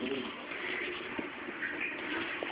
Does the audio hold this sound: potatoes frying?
no